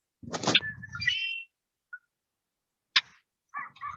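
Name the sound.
red-winged blackbird song, played recording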